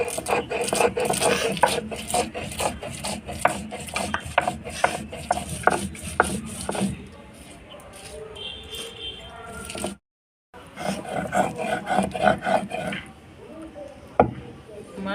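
Mustard seeds, black mustard, poppy seeds and chili are ground into a paste with repeated rasping, scraping strokes in an uneven rhythm, close by. The grinding pauses briefly, then resumes.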